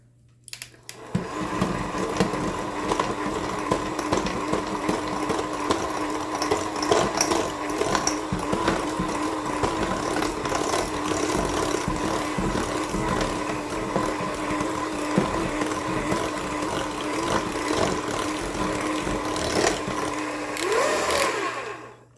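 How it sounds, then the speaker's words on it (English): An electric hand mixer whirs steadily through dairy-free chocolate chip cookie dough in a home kitchen, a continuous motor drone with a faint rattle that runs unbroken for about twenty seconds before cutting off. "And we're going to give that a stir with our mixer."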